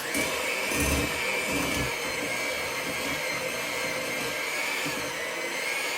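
Electric mixer whirring steadily at a raised speed while beating a Boston cream pie batter, a continuous close motor drone with no pauses and no voices.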